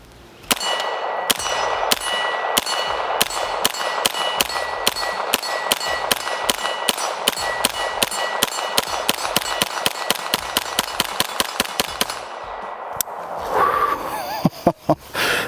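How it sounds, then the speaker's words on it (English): Rapid, evenly spaced shots from an Angstadt MDP-9 pistol caliber carbine fed from an extended Glock magazine, a long loud string of sharp cracks with ringing clangs, ending in a few separated shots. "We got our extendo Glock mag in the MDP-9. First shots with it."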